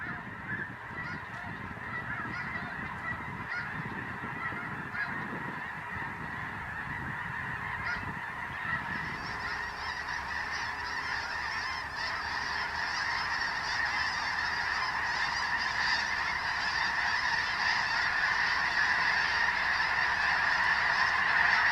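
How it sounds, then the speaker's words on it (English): A large flock of snow geese calls during a spring hunt over water in Illinois, a dense, continuous chorus of honking that builds steadily louder as the birds approach from a distance. "we started to hear the deafening buzz of birds coming from a long ways away."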